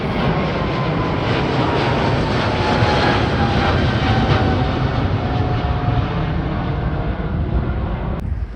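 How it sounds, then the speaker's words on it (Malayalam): An Air India Boeing 777 bound for Delhi passes over the Heathrow spotting area with a loud, steady jet roar that fills the whole stretch, holding broad and even before easing slightly at the end. "ദേ ഡൽഹിയിലേക്ക് പോകുന്ന എയർ ഇന്ത്യ ഇത് ട്രിപ്പിൾ സെവനാണ്"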